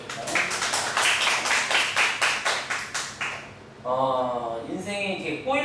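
A church congregation at a Sunday afternoon service claps together in a steady, even rhythm for a few seconds, then a voice begins speaking as the clapping stops.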